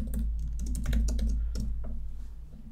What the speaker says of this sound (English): Type in /wp-admin and click on enter